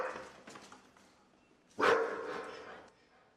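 A dog barks a few times at moderate distance, with a louder sharp bark partway through that trails off, mixed with other faint background sound.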